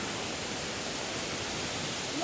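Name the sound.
Kadamagundi waterfall near Didupe, Dharmasthala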